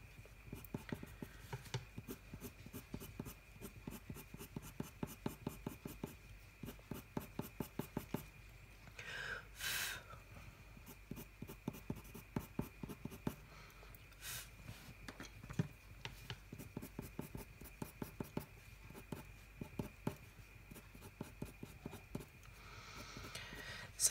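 Prismacolor colored pencil scratches steadily across paper as it colours, a close, quiet stream of rapid short strokes that continues throughout, broken by a couple of brief louder noises and no talking.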